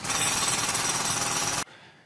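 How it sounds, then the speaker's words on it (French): A jackhammer pounds in a loud, continuous rattling burst for about a second and a half, then cuts off abruptly into near silence. "100 décibels, c'est quand même l'équivalent d'un marteau-piqueur"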